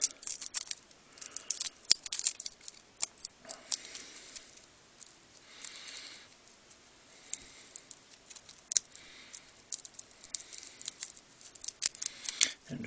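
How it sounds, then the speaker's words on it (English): Cellophane being crinkled up by hand, close and fairly quiet, makes a long run of irregular crackles and sharp little snaps with no talk over it. "I have here some cellophane that I'm just going to crinkle up"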